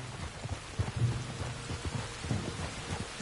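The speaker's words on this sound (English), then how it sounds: "You were right about the damn rain." Steady rain pours down in a continuous hiss, with soft low rumbles and scattered drops pattering close by.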